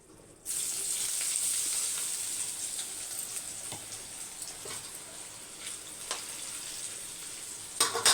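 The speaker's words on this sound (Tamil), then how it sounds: "இப்போ மில் மேக்கரை வறுத்து எடுத்துடலாம்" Soya chunks (meal maker) fry in hot oil, a bright, continuous sizzle that starts abruptly and stays loud and close, with occasional stirring scrapes and pops.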